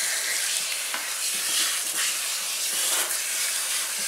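Water rinsing through a girl's hair during a wash, a steady close splashing hiss with soft irregular gushes, continuous and fairly loud without talk.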